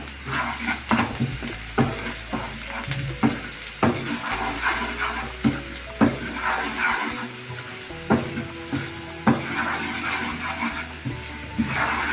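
Onions frying with spices in a pan, a steady loud sizzle with frequent stirring scrapes and utensil knocks throughout, no voice.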